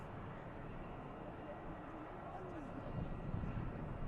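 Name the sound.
aircraft banking around the airfield at Manchester Airport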